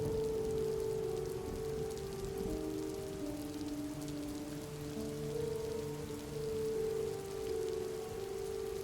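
Steady rain falls in a dense, even patter with no breaks, joined by a soft low sustained tonal drone underneath.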